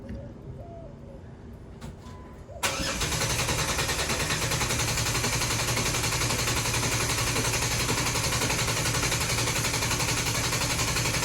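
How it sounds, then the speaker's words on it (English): Jeep engine cranking loudly and close after a couple of seconds of quieter background, then holding a dense, continuous churn to the end. "So we're gonna go ahead and crank now for 10 seconds."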